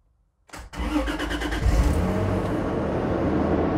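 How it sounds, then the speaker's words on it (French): A car engine, jump-started with a battery booster, cranks with a quick rattle, catches in neutral, and settles into a steady, rumbling idle, close and loud with no talking. "je sais pas si vous m'entendez avec le bruit du moteur"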